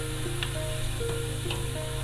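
Masala spices sizzling in hot oil while frying for chicken korma, a constant close crackle and hiss with faint tonal hums underneath and no voices.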